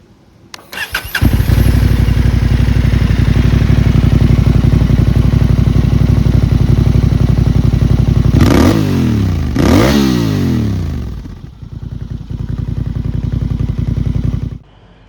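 A 2025 Honda CB750 Hornet fitted with a Delkevic slip-on exhaust starts up and idles loudly and close, then is revved twice in quick swells before settling back to a deep, steady idle.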